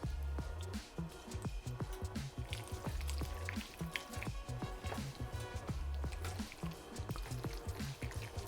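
Cooked pasta being stirred with grated pecorino cheese and starchy pasta water for cacio e pepe, giving soft, continuous wet squishing and scraping sounds, fairly quiet and steady throughout.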